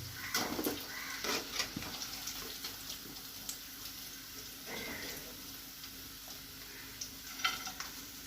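Chicken pieces fry in hot oil in a pan and are stirred, with a soft sizzle broken by intermittent scraping and clinking stirs.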